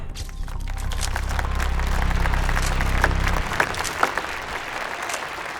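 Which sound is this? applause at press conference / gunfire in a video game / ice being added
applause at press conference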